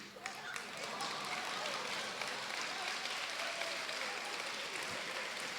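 Dense, steady clapping from a crowd giving a standing ovation, hands raised, loud and sustained for several seconds, with a murmur of voices mixed in.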